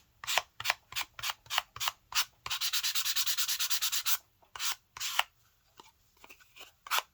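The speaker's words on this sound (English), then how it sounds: "I use my sanding block and some really nice thick chipboard" Sanding block rubbed over thick chipboard, a run of short rhythmic scraping strokes followed by a sustained fast burst of rapid back-and-forth rasping, then more separate strokes, close and clear with no talk.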